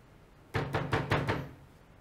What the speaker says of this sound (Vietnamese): Trang, mở cửa cho anh